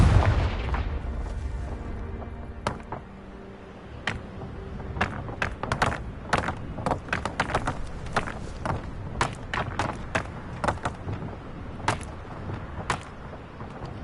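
Confringo explosion spells cast in the video game Hogwarts Legacy: a rapid, irregular scatter of sharp cracks and booms over a low rumble, many hits in a row, fairly close and punchy.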